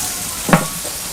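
Steaks dropped onto a hot grill give one sharp, close hiss that swells quickly and then fades into a softer sizzle, with no one speaking.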